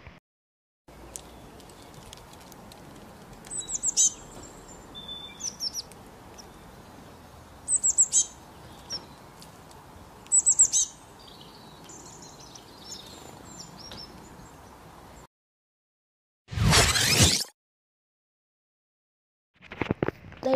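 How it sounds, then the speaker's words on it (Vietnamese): Bird chirps come in short bright bursts several times over steady faint background noise, followed by a louder final burst after a brief pause. "Đây là con chim."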